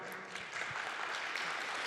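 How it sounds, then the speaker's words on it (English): Brief, faint clapping from a panel audience greeting a speaker at a 6G technology session, a soft continuous patter heard from a distance. "Hand of applause for Marja."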